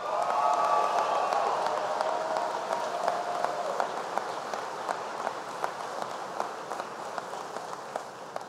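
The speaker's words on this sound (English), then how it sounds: "Give them a big round of applause." Crowd applause for Jacksonville neighbors at a presidential address to servicemen and women in Jacksonville, Florida, steady and dense at first, then thinning gradually with scattered individual claps toward the end.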